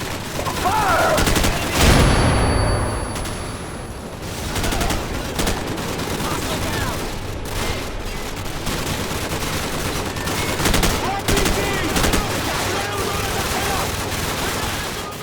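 Dense bursts of automatic gunfire and shots from the video game Call of Duty Modern Warfare, loud and continuous with a heavy blast near the start. Voices speak over the fire.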